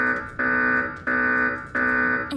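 Repeating electronic alarm from the video game The Epsilon - Dyschronia, three loud sustained buzzing tones separated by brief gaps, heard alone with no voices.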